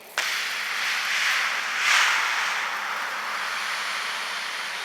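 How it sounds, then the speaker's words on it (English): Water pours onto newly planted romaine lettuce in a garden bed, starting abruptly as a soft broadband splashing hiss that swells briefly and then holds steady. "now I'm going to give it a nice little drink of water before I cover it up"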